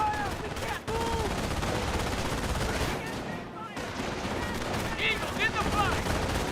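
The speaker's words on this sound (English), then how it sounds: "Under heavy fire! We can't move!" Heavy gunfire rages through a D-Day landing battle, with dense, continuous bursts of rifle and machine-gun fire close by and voices shouting over the din.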